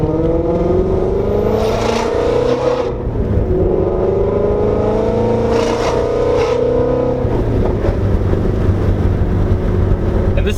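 A 510whp full bolt-on Ford GT350 engine revs hard and loud from close by, pitch climbing and falling through several sustained sweeps with a steady drone underneath.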